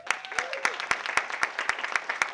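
Applause from a storytelling show audience, led by loud, evenly spaced claps from someone near, about nine in a row, over a background of wider clapping and a faint voice.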